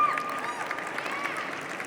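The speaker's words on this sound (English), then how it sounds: "Round of applause." Brief, moderate audience applause at a fireside chat on agricultural transition, a steady patter of clapping lasting a couple of seconds, somewhat distant.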